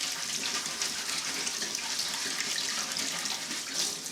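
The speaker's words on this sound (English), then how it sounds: "get the warm water running, and what we're going to do here is we're just going to wash these out" Warm tap water runs steadily over airgun pellets held in a sieve, a continuous hissing splash at close range with no voices over it.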